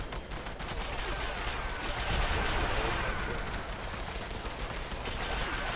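The Pepper Shaker gun in Fallout 76 fires a rapid, continuous stream of shots. The burst is dense and fairly loud, with a faint voice talking underneath.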